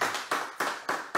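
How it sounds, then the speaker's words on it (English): A congregation at a church service claps in unison, five sharp, regular beats in just over a second, loud and close with no talk over it. "please clap your hands for Jesus"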